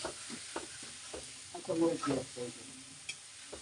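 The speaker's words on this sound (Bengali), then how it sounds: "ভালো করে মুলাটারে কষাই নেব" Radish and tomato masala frying in a pan, a soft sizzle with intermittent stirring scrapes, fairly quiet, with brief voices in the background.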